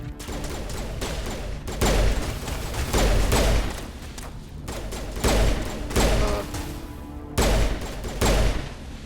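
Bursts of automatic gunfire in the video game Mass Effect, rapid repeated shots in loud volleys separated by short pauses, close and heavy.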